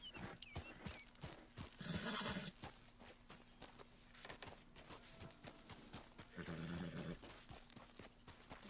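A horse in Red Dead Redemption 2 whinnies twice, loudly and close, with snorting and clip-clopping hooves in between. Faint game ambience sits underneath and no one speaks.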